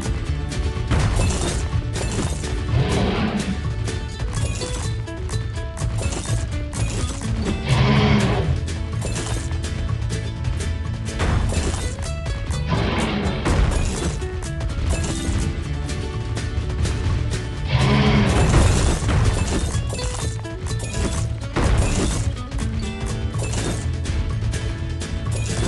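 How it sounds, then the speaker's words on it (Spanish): Rocks being smashed at a volcano in a PAW Patrol video game, repeated crunching cracks and crashes at irregular intervals over continuous game music. "Puedes romper las rocas para encontrar más."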